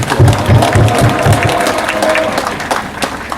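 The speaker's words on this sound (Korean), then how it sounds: "다시 한번 뜨거운 박수 부탁드립니다" Outdoor crowd applause at a protest rally on a rainy day, loud and continuous clapping from many people with some crowd noise mixed in.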